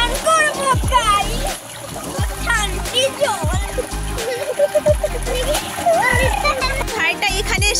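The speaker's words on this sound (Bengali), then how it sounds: "ভাইটা এখানে এসে স্নান করা শুরু করে দিয়েছে" Water splashing as someone bathes outdoors on a winter afternoon, with loud, irregular splashes and gurgles throughout, mixed with a voice and other people talking nearby.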